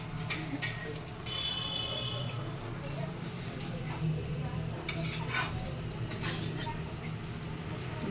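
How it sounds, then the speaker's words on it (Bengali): A pot of biryani being stirred, with soft scraping and light utensil clinks over a steady low kitchen hum, moderately close and fairly quiet. "নাড়ানাড়ি করছি বিরিয়ানি।"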